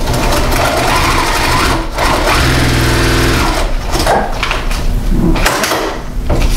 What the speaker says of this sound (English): And you sew directly on the line.